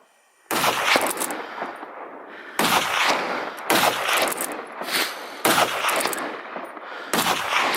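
Five loud gunshots ring out at irregular intervals during a wild boar hunt on an open hillside, each sharp crack trailing into a long echoing boom across the landscape.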